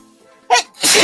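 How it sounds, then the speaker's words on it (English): A single close sneeze: a quick inhaled build-up followed by a sharp, loud burst. "I'm going to sneeze."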